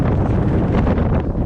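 Strong wind on the summit of Pavey Ark in the Lake District in January buffets the microphone in a loud, continuous roar with low rumbling gusts throughout.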